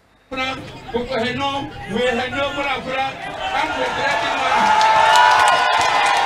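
Applause and cheering from a crowd at the official campaign launch rally of the FCBE party in Benin, with voices rising from the start and broad, steady clapping swelling louder and denser toward the end.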